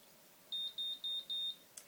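A Babyliss Curl Secret hair curler gives four short, evenly spaced electronic beeps, clear and close, with a quiet background and no speech.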